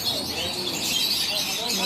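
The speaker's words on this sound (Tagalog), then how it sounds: "Ayan yung dalawang ibon na ba." Two birds chirping in a garden, small faint tweets over a steady bed of outdoor background noise, with no clear talking.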